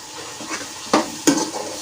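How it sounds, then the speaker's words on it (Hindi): Eggplant bharta masala is stirred into cooked tomatoes in a pan: a soft sizzle with two sharp scraping strokes of the spoon against the pan, close and without talk. "इसको हम इसमें अच्छे तरीके से मिक्स करेंगे।"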